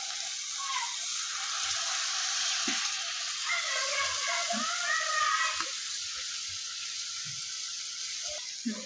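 Spice mix with Kashmiri chili powder added to hot fried spices in a pan, a soft continuous sizzle with occasional light clinks and stirring sounds, fairly quiet and close.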